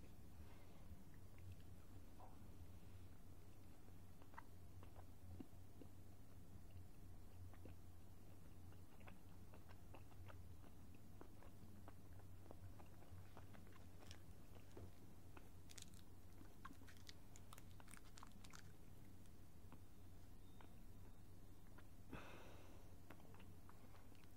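Sticky Tootsie Roll candy being chewed with dentures: faint, close, irregular wet clicks, squishes and small crunches over a low steady hum, with no talking.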